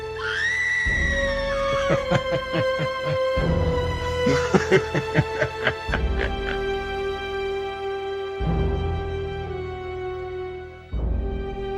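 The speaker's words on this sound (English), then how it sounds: "I heard what sounded like a scream coming from a back room." A woman screams from a back room in long, sustained, high-pitched wails, loud and strained, broken by short gasping pulses and brief pauses.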